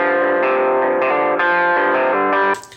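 Electric guitar rhythm part with EQ cutting some body and room reverb, distorted chords changing every half second or so in a steady pattern, loud and alone, ending in a short reverb tail.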